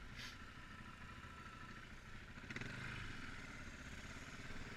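A Yamaha WR250 motorcycle idles on a trail with a steady, low engine rumble and a faint rising lift partway through, fairly quiet and with no talking.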